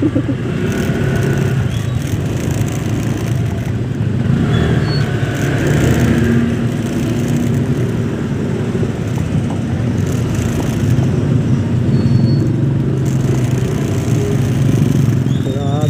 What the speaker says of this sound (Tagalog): Lagi naman traffic dito eh.